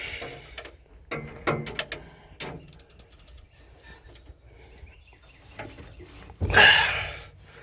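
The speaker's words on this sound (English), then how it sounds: "put it on the crank, and see if this whole thing can spin over" A small 3/8 drive ratchet turns the crank of a 1947 Ford Super Deluxe engine, producing close, irregular clicking and grinding bursts followed by a louder scraping rush near the end.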